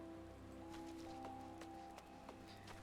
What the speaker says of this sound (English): why's it always gotta be raining in Gridania?